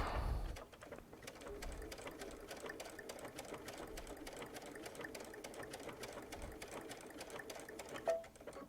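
A Baby Lock Solaris sewing machine fitted with a walking foot stitches steadily at an even, rapid rhythm, close and fairly quiet, before a brief louder mechanical clunk near the end as it stops.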